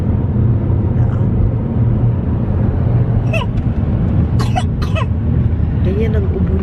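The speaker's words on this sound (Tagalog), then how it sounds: "Ganyan ang ubo niya, fast ba?" A sick baby gives a few short, dry coughs spaced apart over a steady background hum, with voices nearby.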